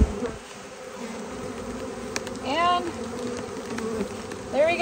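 A close swarm of honeybees hums steadily as they are shaken off brood frames into a newly split hive, with a few sharp buzzing swoops as single bees fly right past.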